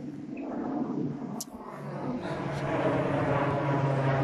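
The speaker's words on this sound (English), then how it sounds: "I've not seen a plane for freaking ages." An airplane passing over a park during an autumn walk near Warrington, a low, distant engine drone that slowly swells over a few seconds under outdoor ambience.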